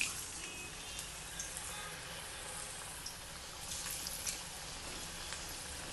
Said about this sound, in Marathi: आता त्या आपण तळून घ्यायच्या थोड्या थोड्या करून